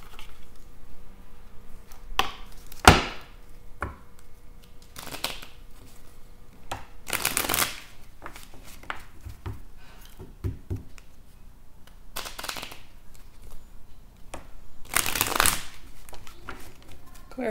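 A deck of tarot cards is shuffled up close, with irregular bursts of riffling and flicking spread across the clip and some quiet rustling between them.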